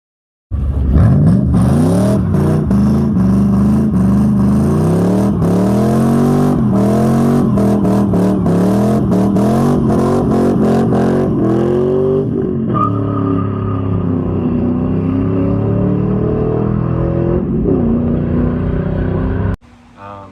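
A Pontiac GTO running a 99–04 Mustang GT 4.6 PI V8 with a Tremec TR3650 five-speed revs hard and close, pitch climbing in repeated pulls before settling into a rough, loud idle that cuts off abruptly.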